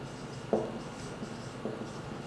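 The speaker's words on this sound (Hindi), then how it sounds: "मैं एक बार मार्कर चेंज करूं अपना, लिखेंगे आइसोटॉपिक नंबर।" A marker writes on a board, giving two short squeaky strokes with faint rubbing between them, quiet and close.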